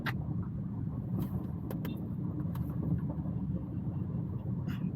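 A car moving on a road, heard as a steady low rumble of engine and tyres with faint clicks and knocks on top, constant and moderately close, no talk.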